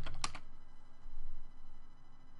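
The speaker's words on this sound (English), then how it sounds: "let's just type in Google AdSense" Quick burst of typing on a computer keyboard while entering a plugin search in WordPress, a short cluster of crisp key clicks near the start followed by quiet room tone.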